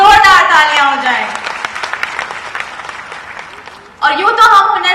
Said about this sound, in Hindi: तो हुनर हाट की माइनॉरिटी एसेट सोच के लिए एक बार जोरदार तालियां हो जाएं